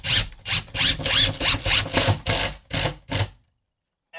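A SPAX screw driven into a wooden board with a power driver, pulling it flat: a close series of about ten short whirring bursts in rapid rhythm, then silence.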